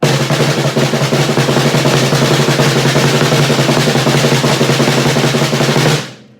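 Rapid, even snare drum strokes blur into a loud continuous roll, close and sustained, then stop abruptly.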